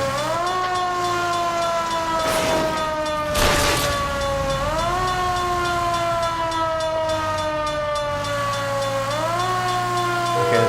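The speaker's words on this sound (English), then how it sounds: "the siren's starting to get on my nerves." A police car siren in the video game L.A. Noire wails continuously in slow rising and falling sweeps, loud and close, with a couple of brief noisy bursts early on.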